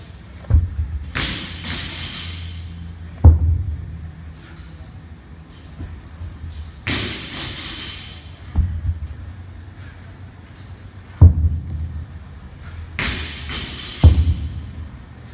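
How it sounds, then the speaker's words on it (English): Tire flips in an outdoor CrossFit race: heavy thuds of a large tire slamming onto the ground, about five spaced impacts repeated every few seconds, near and loud over faint background noise. "He's gonna finish with a tire flip all the way down."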